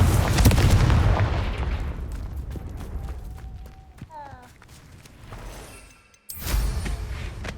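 A Confringo fire spell bursts in Hogwarts Legacy, opening with a loud, rumbling explosion that slowly decays, followed by quieter game effects, a brief pause and another heavy boom.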